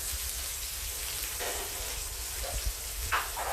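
Onions sizzle and fry steadily in a hot pan, a constant crackling hiss with occasional stirring scrapes, close and alone.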